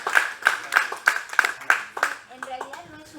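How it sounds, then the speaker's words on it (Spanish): Rhythmic clapping from a lecture-hall audience at a literature panel, about seven sharp claps in a steady beat, then thinning into scattered claps and murmuring voices. "Un aplauso nuevamente para..."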